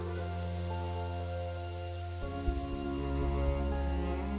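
Steady rain drenching the South American rainforest, a continuous hiss of falling water that runs throughout, heard beneath sustained music and no speech.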